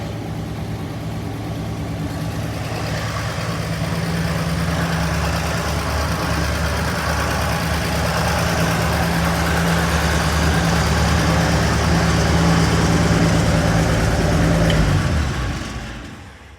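A 1963 Ford F100 pickup with an old carbureted gas engine idling close and loud, a steady, even rumble lasting about fifteen seconds before it quickly drops away.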